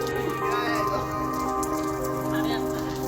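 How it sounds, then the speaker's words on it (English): Rain falling steadily in one isolated spot, a dense continuous patter that stays even throughout, with people talking over it. "Is that rain?"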